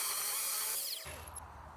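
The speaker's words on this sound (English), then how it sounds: "let's drill it" A power drill whines steadily and loudly, then drops to a lower, rougher grinding hum as the bit bites into wood, with no talking.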